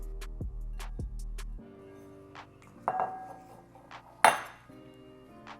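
Smashed potatoes with black pepper and Munster cheese are stirred in a bowl, heard as a run of metallic clinks and scraping knocks from a utensil against the dish, close by and with no talking.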